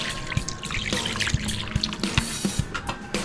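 Water poured into a cooking pot holding beef bone marrow with ginger, bay leaf, crushed garlic and salt, a running trickle with small splashes and knocks, no talk.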